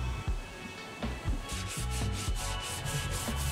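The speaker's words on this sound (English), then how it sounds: "After some more sanding and shaping," A foam foil board is sanded by hand, with repeated scraping strokes that are close and fairly loud, then a faster rhythmic rubbing pattern.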